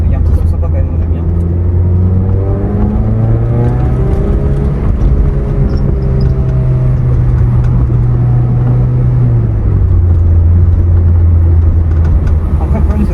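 A loud, close sports car engine holds a steady drone around 4000 rpm, then its pitch falls gradually as the revs drop, a deep continuous rumble throughout.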